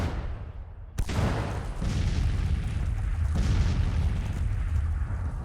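Civil War artillery in a video game, a sharp cannon report followed by rolling booms and a sustained thunderous rumble of distant guns that carries on to the end.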